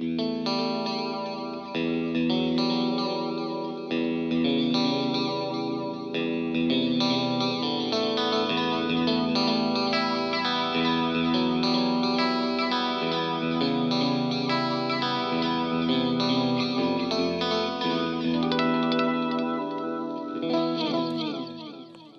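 Electric guitar run through a Flashback Triple Delay pedal, sustained chords and notes trailing into repeating delay echoes with a chorus-like shimmer, steady and fairly loud throughout with no talking.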